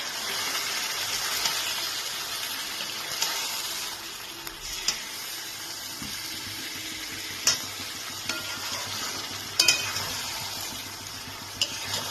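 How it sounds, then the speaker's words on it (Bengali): Chicken pieces with chopped tomato frying and being stirred in a pan, a constant bright sizzle broken by occasional scraping clicks of the spoon. "এবার এই মাংসটাকে আমি ভালো করে কষাতে থাকব"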